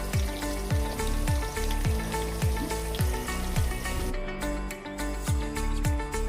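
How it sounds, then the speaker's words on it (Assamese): Tomatoes bubble and sizzle in a pan for a local chicken dish: steady, fairly quiet popping and bubbling that repeats in a loose rhythm, close by and alone, with no talk. "এয়া দেখিছে বিলাহী মধ্যে উতলি আছে।"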